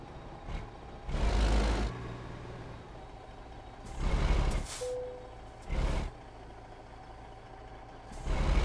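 In American Truck Simulator, during a Texas snowstorm, a truck's air brakes let out several loud, sharp hissing bursts spaced a few seconds apart over a low idling engine.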